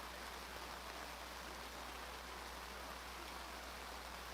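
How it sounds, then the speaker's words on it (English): Rain falling hard at an outdoor Super Bowl Sunday flag football game, a dense, even hiss of heavy rainfall, steady and unbroken, with no voices. "if there was a possibility of the rain getting harder"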